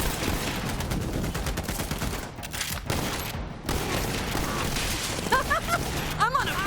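Rapid bursts of video game gunfire from Borderlands 3 rattle over a busy mix of effects, with brief gaps and metallic mechanical clicks toward the end, at moderate loudness.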